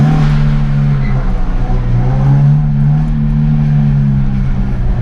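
A drift car, a BMW E30 325i, revs its engine in a narrow parking lot, giving a loud, close, sustained engine drone with slight pitch swells and no voices over it.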